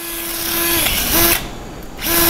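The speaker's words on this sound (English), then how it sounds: "We can drill these out." A power drill whirs in short bursts, drilling screw holes in a cement-coated bone plate, spinning up and winding down twice, steady pitch, close by.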